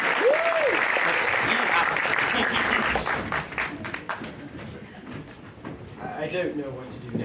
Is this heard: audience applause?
yes